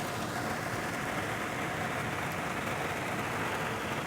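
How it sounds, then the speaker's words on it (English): Steady, dense rain hissing and drumming on a surface, heavy and continuous with no letup and no voices. "It's pouring."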